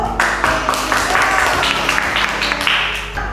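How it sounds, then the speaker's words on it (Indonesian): Students in a classroom clap together briefly, a close, loud patter of many hands over a low background hum, with faint voices mixed in. "Tepuk tangan dulu."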